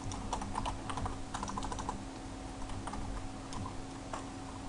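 Fast, steady typing on a computer keyboard, close and clear with no talk, as text is entered into a WordPress post editor; irregular bursts of key clicks run throughout.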